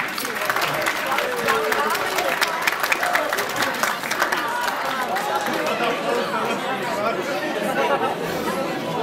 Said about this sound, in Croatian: Jedan aplauz za naše dame.